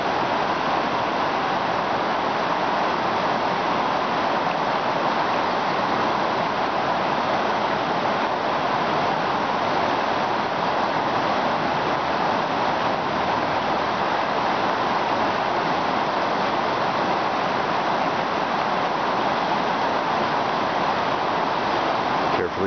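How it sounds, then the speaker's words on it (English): Creek water rushes steadily through a crossing, a dense, continuous broadband wash that stays loud and even throughout with no speech over it. "The Great Creek Crossing."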